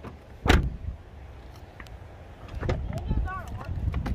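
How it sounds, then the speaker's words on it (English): A car door slams shut with one loud, close thud near the start, then a low rumble inside the car continues. "Wait, I gotta shut the door."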